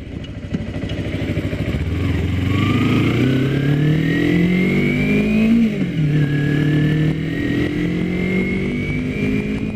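Kawasaki-style 250R motorcycle with its stock exhaust cruising uphill at about 5,000 RPM, a steady, fairly mild engine drone with rising and dipping pitch as it pulls, close and continuous throughout with no talking.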